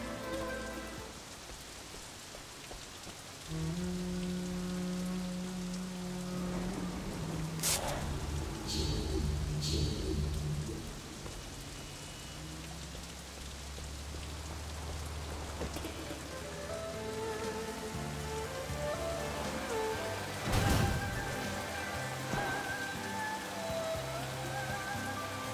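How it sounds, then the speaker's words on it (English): Steady rain falling throughout a scene in the open-world action game Sleeping Dogs, a continuous wash of patter with some louder game effects and low rumbles mixed in, no speech. "It's raining!"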